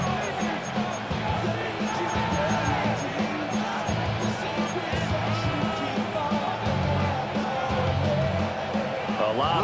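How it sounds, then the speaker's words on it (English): Stadium crowd roars in Madden NFL 26, a dense continuous wall of cheering and babble that stays loud throughout, with game commentary talk mixed in. "That just means this crowd's going to get even louder"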